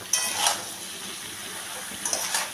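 Potatoes, salt and green chillies being stirred in a pan produce a soft hiss of frying with light metallic clinks of a spoon against the pan at the start and end.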